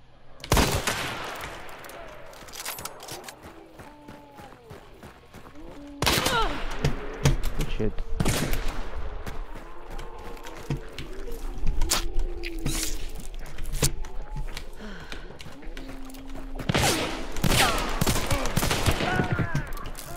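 Gunfire in the game Hunt: Showdown, sharp broadband shots at irregular intervals over a busy game soundscape, the first near 0.5 s and heavier blasts from about 6 s onward.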